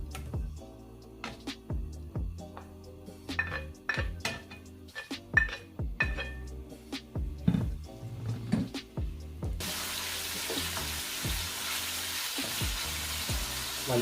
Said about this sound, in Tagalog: just pour in some oil and start sauteing or cooking our pork meat